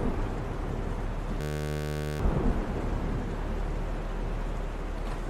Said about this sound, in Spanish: Parece que está lloviendo afuera